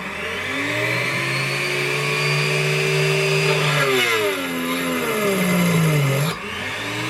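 A Dremel high-speed bench drill boring into 3mm steel, its motor whining loudly and close, the pitch sagging and sliding down as the bit strains under load.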